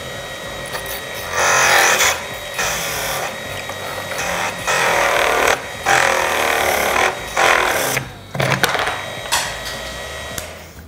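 A wooden cylinder for a rocket model is worked and broken apart, with bursts of close, gritty scraping and grinding broken by short pauses, ending in a sharper crack and rattle.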